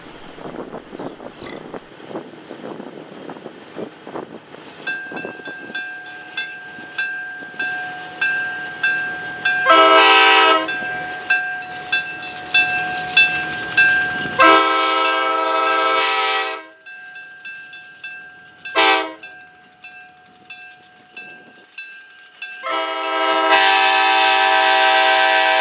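Spirit of Urbana excursion train passing a rail crossing near Washington Court House, Ohio: rolling wheel clatter builds steadily while the horn blows in several long blasts, the last one loud and sustained.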